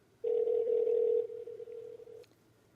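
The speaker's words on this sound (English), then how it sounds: "David Zaffiro, let's get him on the phone." A phone line ringing out on a call to David Zaffiro; one steady electronic tone about two seconds long, clear and close, with no talking over it.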